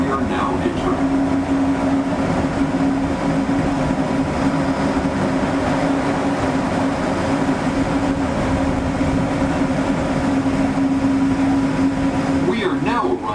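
Disneyland monorail train pulling into the Downtown Disney station, a steady rumbling hum with a strong sustained tone from the motors and rolling wheels throughout, close and continuous, with faint voices and ambient noise around it.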